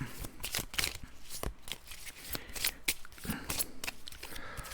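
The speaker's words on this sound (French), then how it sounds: "Je la brasse pour être sûr que ce soit vraiment du hasard." A deck of game cards is shuffled repeatedly at close range, with a steady run of crisp riffling and slapping bursts and no voice over it.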